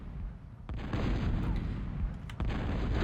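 Units in a real-time strategy game on a lava map fire on a commander, with continuous heavy booming and crackling gunfire and dense explosions throughout.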